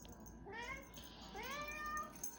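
A cat meows twice, a rising then falling cry, soft and close in a quiet indoor room while playing with a new toy.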